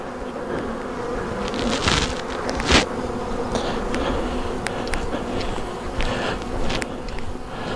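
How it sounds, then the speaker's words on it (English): Honey bees buzz steadily and close up inside a nuc hive box in a beekeeping workshop, a dense continuous hum with a few brief louder swells and clicks of handling. "You're right, I don't have enough bees in there."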